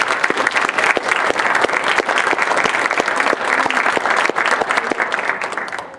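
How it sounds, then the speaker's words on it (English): Loud, sustained audience applause for speakers at a theology event on migration and mission, dense clapping with sharp individual claps standing out across the whole stretch. "Let's give a round of applause."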